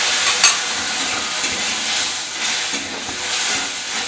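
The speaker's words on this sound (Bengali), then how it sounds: "দিয়ে মশলা থেকে তেল ছাড়া পর্যন্ত খুব ভালো করে নাড়াচাড়া করে কষিয়ে নেব।" Spice paste and slit green chillies fry in hot oil with a loud, steady sizzle and hiss, stirred now and then with soft scraping, for a Bengali katla fish curry.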